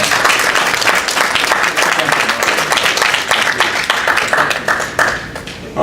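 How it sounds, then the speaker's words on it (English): Steady, dense audience applause for two speakers at a meeting, loud and continuous, tapering slightly near the end. "let's give them a really good round of applause"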